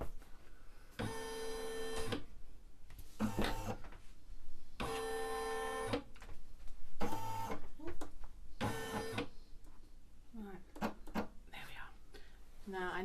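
A Brother Innovis 1250 embroidery machine traces its design outline, giving repeated bursts of whirring, buzzing motor movement separated by short pauses, close and clear, with low murmured talk between the moves.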